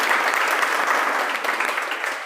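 An audience claps loudly and steadily at a coaching institute gathering to welcome a teacher, a dense continuous round of applause.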